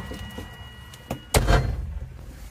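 The door of a Mazda RX-7 shuts with a single solid thunk, followed by a brief rattling settle, heard close in a quiet setting.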